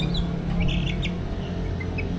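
A bird chirps in a few short, bright calls at moderate distance, over a loud low rumbling background with no talking.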